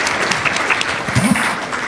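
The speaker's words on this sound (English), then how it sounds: "Please give them a round of applause." Conference audience applauding panel speakers at a democratization event, a short, continuous round of clapping from a seated crowd with a voice briefly audible over it.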